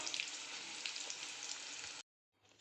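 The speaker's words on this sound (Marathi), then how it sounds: "आपले पकोडे चांगले फ्राय होत आहेत दोन्ही साईडने" Chili pakoras deep-frying in hot oil give a loud, steady, dense sizzle for about two seconds before it cuts off abruptly, then a faint hiss returns.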